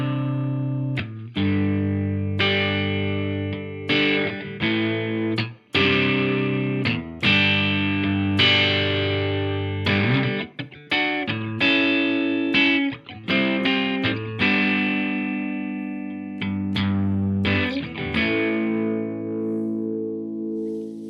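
Electric guitar played through a DOD Boneshaker distortion pedal, warm and growly, with sustained distorted chords and single notes struck in a steady, unhurried rhythm, loud and alone.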